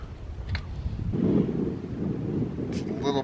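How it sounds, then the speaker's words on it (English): Wind gusts buffet the microphone outdoors, a low rumbling swell that builds in the middle, with brief clicks and small handling sounds around it. "Breezy out."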